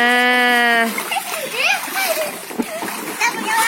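Children swimming in a pool at a village house in Aceh, splashing water in short bursts under lively kids' voices and an adult talking, after a tonal sound at the start.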